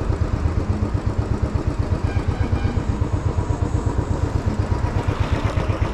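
A Royal Enfield 500 motorcycle engine idles in a parking spot, its steady, rapid thumping beat loud and close throughout with no talk.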